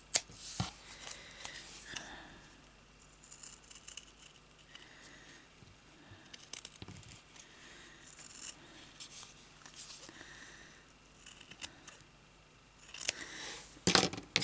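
Scissors trim around a stumpwork embroidery piece in a run of soft, close snips and rustles, with fabric handling sounds in between and no talk.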